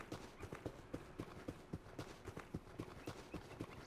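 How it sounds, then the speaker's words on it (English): Horse hooves in the survival game Rust clop in a fast, steady rhythm of sharp, evenly spaced beats that stay close and clear, with no talk over them. "Is that a horse?"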